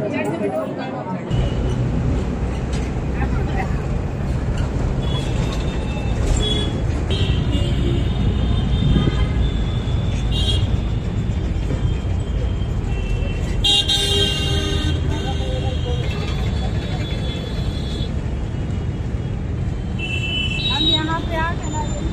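Train running from Calcutta toward the rural town of Krishnanagar, a steady loud rumble of the moving carriages with horn toots and squeals, under continuous talk and crowd noise.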